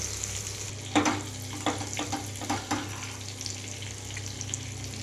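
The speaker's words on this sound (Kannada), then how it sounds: "ಇದೇ ಪಾನ್ಗೆ ಲೋ ಫ್ಲೇಮ್ ಇಟ್ಕೊಂಡು ಈ ಬಟರ್ನ ಆ್ಯಡ್ ಮಾಡ್ಕೊಳ್ತಾ ಇದ್ದೀನಿ" About three spoons of butter melt in a pan over a low flame, a soft continuous sizzle with a few light scraping stir sounds, close and steady with no talking.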